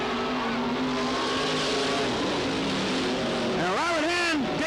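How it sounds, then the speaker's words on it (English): Race cars roar together on a dirt speedway oval at the 1991 Cottage Grove Speedway Fall Classic, a dense continuous engine drone with a rising and falling rev sweep near the end, under an announcer's ongoing commentary. "And Robert Hand, David Gould, side by side driving"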